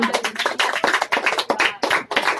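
A church congregation clapping loudly and steadily, many hands applauding together at close range.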